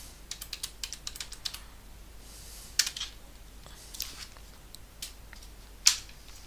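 Keys clacking on a computer keyboard that keeps misbehaving, in quiet bursts of rapid taps with a couple of sharper, louder clicks between pauses, close and alone without voices.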